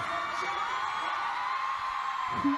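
A crowd at the BBC Teen Awards cheering and whooping, heard as a steady distant roar from a played-back video, with a brief louder yell near the end.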